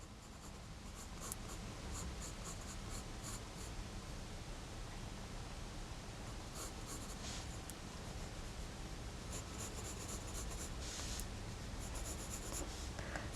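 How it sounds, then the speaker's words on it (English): A pencil scratches steadily across paper while sketching an elongated figure drawing, a continuous dry rasp with brief brighter strokes and scribbles throughout, close and alone with no talking. "I am going to use a pencil for this one because it'll help me get in the lines that I need to get in."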